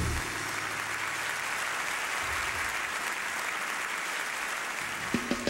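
Sustained applause from a large audience at the 2006 NHRA POWERade Awards Ceremony honoring Pro Stock Motorcycle drivers, a steady dense wash of clapping that fades near the end with a few scattered claps.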